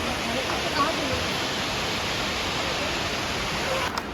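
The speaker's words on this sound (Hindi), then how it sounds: "पहाड़ों के बीच में कितना प्यारा सा झरना बह रहा है" Savri Waterfall in Goa, flowing between mountains in the Netravali Wildlife Sanctuary, gives a steady, broad, unbroken rush of falling water that stays at an even loudness throughout.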